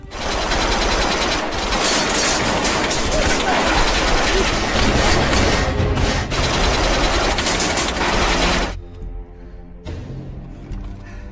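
Loud, sustained bursts of rapid gunfire pound continuously for several seconds before cutting out, leaving quieter sounds at the end.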